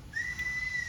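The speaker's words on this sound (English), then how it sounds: "if you whistle" One person whistles a single steady, clean tone into a microphone, sustained for under a second.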